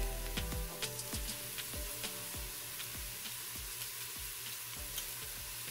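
Cumin spice going into a pan of frying vegan chilli, which sizzles steadily and loudly throughout with repeated spoon stirring scrapes, close up and without speech.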